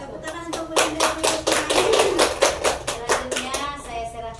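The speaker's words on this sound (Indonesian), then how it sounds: "Tepuk tangan untuk Bunda." Clapping for someone speaker at an Indonesian teachers' gathering: a small group's steady, fairly close rhythmic hand claps over about four seconds, with faint voices underneath.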